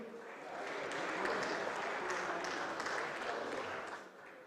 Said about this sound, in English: Ladies and gentlemen, can we have a round of applause for the lone Englishman?